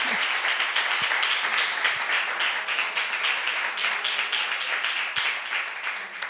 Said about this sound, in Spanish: si queréis aplaudir para el Señor